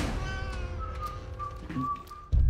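A cat meows a few times in a film trailer, thin tonal calls heard close and clear over a faint background, ending with a sudden low thump.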